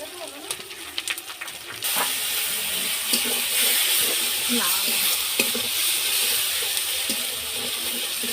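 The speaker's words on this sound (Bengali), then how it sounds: "এবারে মশলাটাকে ভালোভাবে কষিয়ে নেব।" Chicken with salt, turmeric and chili powder sizzles and is stir-fried in a pan. After a few sharp clinks of the spoon, a loud, steady frying hiss sets in and runs to the end, broken by scraping stirs.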